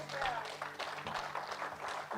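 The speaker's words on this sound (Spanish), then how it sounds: "Denle un aplauso a Jesucristo, mi amado." Congregation applauding during a church service, a brief burst of scattered clapping at moderate distance with a voice speaking over it.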